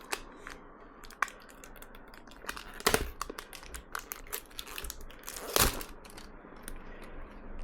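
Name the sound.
tearing open a sealed pack of beef protein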